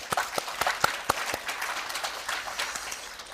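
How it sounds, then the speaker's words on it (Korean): Seminar audience at the FKI Tower (전경련회관) in Seoul, at an event on eco-friendly building materials and blockchain, applauding: sharp, distinct claps at the start that blend into a softer, sustained round of clapping. "여기 오신 모든 분들 우리 자초의 박수 한번 부탁드리겠습니다."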